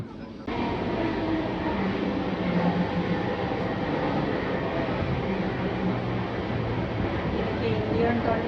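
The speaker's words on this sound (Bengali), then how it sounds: "12-313 নিউ দিল্লি রাজধানী এক্সপ্রেস তার গন্তব্যের উদ্দেশ্যে রওনা দিল" Rajdhani Express train rolling along, a steady loud rumble and clatter heard from inside a coach, continuous throughout.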